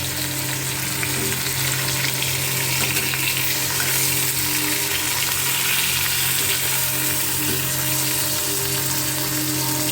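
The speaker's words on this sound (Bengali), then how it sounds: "এখন প্রথমে মাছের মাথাগুলোকে ভালো করে ভেজে নেব" Fish heads fry in a pan with oil, a steady, close sizzle and crackle continuing evenly for about ten seconds with no talking.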